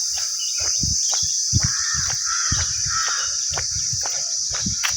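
Birds call in a quiet mountain setting on the Kedarnath trek: repeated harsh crow-like caws at intervals over a continuous high insect drone. The sounds are moderately loud and outdoors, with no talking.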